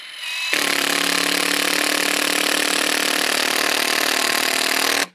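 A Flex compact impact driver on its first mode drives outdoor construction-grade screws, giving a loud, steady buzzing hammer that runs continuously for about four and a half seconds before cutting off abruptly.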